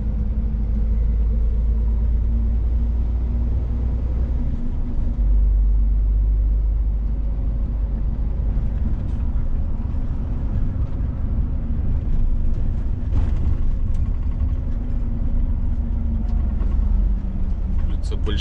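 A car drives through rush-hour traffic on Bolshevistskaya Street in Novosibirsk, with a low, continuous road and engine rumble while voices talk over it throughout.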